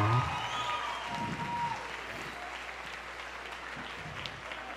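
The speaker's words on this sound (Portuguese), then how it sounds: "Um salve de palmas para esse povo aqui." A church audience applauds and cheers, a soft, distant wash of clapping that fades gradually over several seconds.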